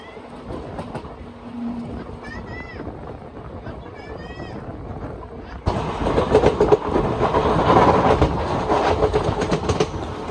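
A Tirupati–Secunderabad express train rumbles along the rails, growing louder and denser partway through, with a steady clatter under faint background voices.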